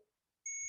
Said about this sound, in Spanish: Aquí alcanzan a escuchar el bip